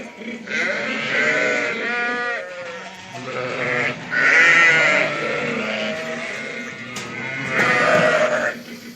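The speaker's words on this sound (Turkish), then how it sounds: "Arkadaşlar daha ilk deneme koyun koyun gidiyor arkadaşlar" A flock of sheep moving through a vaccination chute, bleating over and over, many overlapping calls close by, with shuffling movement beneath.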